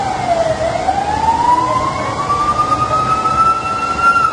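A wailing ambulance siren rises slowly in pitch as the ambulance approaches, loud and sustained over low traffic rumble.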